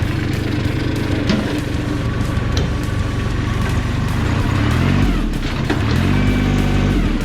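A vehicle engine runs steadily as it tows another vehicle on an overlanding trip. The low drone shifts in pitch as the load changes, with a few clunks and knocks over the top.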